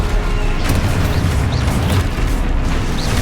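Spell explosions from the video game Hogwarts Legacy crash and boom in a dense, continuous barrage of combat blasts, loud throughout with rising whooshes layered over a rumbling low end.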